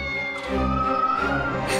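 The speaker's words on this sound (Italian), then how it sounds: "Spostati, gatto, non vedo niente!" A cartoon cat lets out a single drawn-out meow over a steady bed of background music, clear and moderately loud, with no talk over it.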